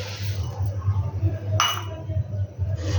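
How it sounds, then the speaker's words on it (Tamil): A spoon stirs grated coconut, sugar and cardamom powder into a pan of milk kozhukattai dumplings, making a few light metallic clinks and scrapes against the vessel over a low steady hum. "நல்லா கிளறி விடணும்"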